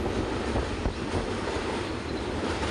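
Jan Shatabdi Express passenger train crossing a river bridge in Andhra Pradesh, a loud, steady roar of wheels and rattling carriages with faint rhythmic clatter, heard from on board without any talk.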